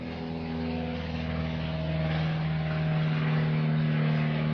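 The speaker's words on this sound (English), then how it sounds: "Oh, here we go. The fucking plane." An airplane drones overhead, a steady propeller engine hum with strong tonal harmonics that grows slightly louder over a few seconds, heard alone without talk.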